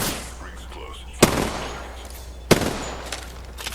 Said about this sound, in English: I was just kind of shooting just to deter them